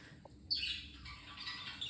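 A pet budgie gives a single sharp squawk that trails into a brief raspy chatter, faint and close in a quiet room.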